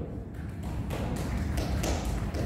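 Audience applause fills a training session on the Convention on the Rights of the Child, a dense, steady clatter of clapping hands that runs without a break for a couple of seconds.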